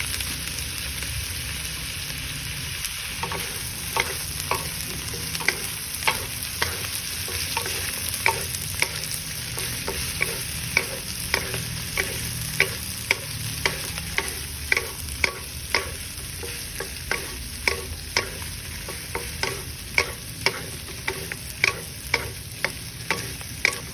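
Garlic, onion and spring onion sauté in a pan with a soft continuous sizzle under a rapid, regular series of spatula taps and scrapes, close and steady, without talk.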